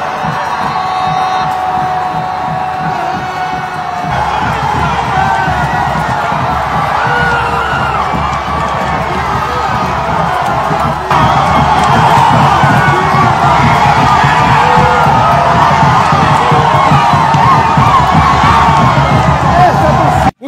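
A fanatical football crowd roars after a Chapadinha goal, sustained loud cheering, shouting and whooping that swells midway and carries on without pause to the end.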